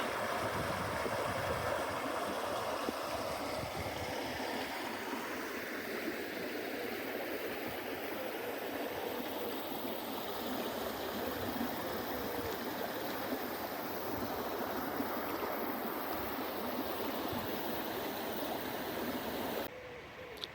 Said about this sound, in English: right next to it runs the River Windrush with what looks like a little lock gate.